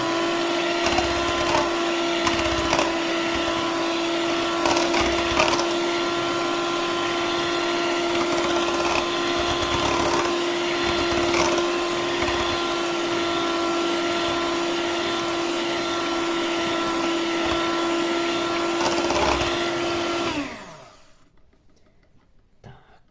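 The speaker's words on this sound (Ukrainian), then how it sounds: "І тепер у нас починає працювати наш міксер" An electric kitchen mixer runs steadily for about twenty seconds with a constant motor whine and rattling, loud and close, before switching off and leaving quiet room sound.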